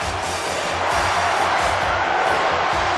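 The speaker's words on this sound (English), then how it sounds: "Chant going on from this capacity crowd," A large capacity crowd in the video game Showdown 64 Legends of Wrestling roars and chants "USA" in a steady, rhythmic swell, loud and continuous throughout.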